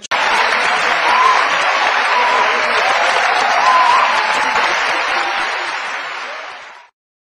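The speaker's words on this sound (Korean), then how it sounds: "따뜻하게 우렁찬 박수로 저를 맞이해 주셔서 대단히 감사합니다" A lecture audience at a university hall gives a warm, loud round of applause, a dense continuous clapping that swells briefly and then fades out to silence after about seven seconds.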